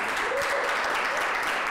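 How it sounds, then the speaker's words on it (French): Audience applause at a talk featuring a musician who plays the inanga, steady dense clapping filling the whole short stretch at even volume. "J'aimerais qu'on applaudisse encore une fois."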